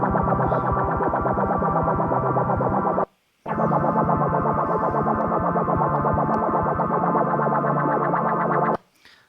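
An Arturia V Collection synth plays a buzzy, distorted sequence of rapid sixteenth-note pulses, its filter swept gently by a synced LFO. The sound runs steadily, stops for a short gap, then resumes and cuts off.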